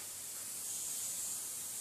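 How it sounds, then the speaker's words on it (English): Steady, even hiss of air streaming from an airbrush nozzle fed by a compressor, faint and continuous with no other sounds. "You can hear it's moving air right now."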